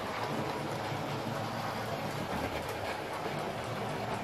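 Bachmann split-chassis model locomotive, an Ivatt tank engine, running on a model railway layout, a continuous close whirring rumble of motor and wheels on track, steady and fairly loud throughout.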